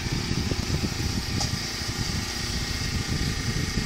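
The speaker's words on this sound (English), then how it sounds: "This is the front of the house. Dad's snow blowing." A snow blower runs during a 2013 snowstorm in Duluth, Minnesota, a steady engine drone with low chugging rumble, moderately near and constant throughout.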